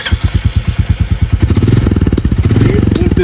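A Royal Enfield Bullet with a fully fuel-injected engine runs near and loud, its regular thumping beat quickening and growing denser partway through as the engine is revved, with no talk over it.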